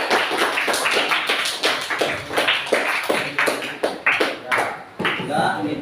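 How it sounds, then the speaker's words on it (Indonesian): A classroom of students gives a short round of applause, with quick, uneven claps from a small group carrying on for several seconds before fading. "kita kasih aplaus dulu"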